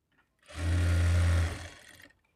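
A sewing machine stitches a lining blouse in one steady run of about a second, loud and close, starting and stopping cleanly with no talk over it.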